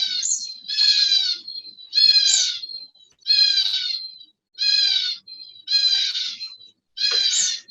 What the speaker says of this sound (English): You can hear my finches probably singing to you in the background.